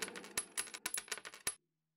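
A pot of coins being counted: about a dozen metal coins drop one after another with bright, sharp clinks at an uneven pace, then the sound stops into silence.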